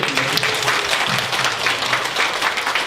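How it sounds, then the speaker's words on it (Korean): A crowd at a neighborhood safety council workshop breaks into dense, loud applause that holds steady throughout, with faint voices mixed in beneath the clapping. "다 같이 한번 박수 칠까요, 저희?"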